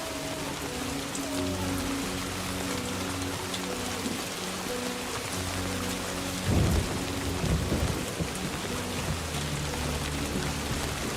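Steady heavy rainfall hisses through Death Stranding 2 while a low thunder rumble rolls in and swells midway, with soft tonal game music underneath and no speech.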